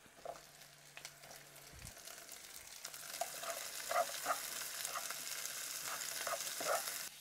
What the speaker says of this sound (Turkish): Bu şekilde yavaş yavaş biberleri de kavuruyoruz.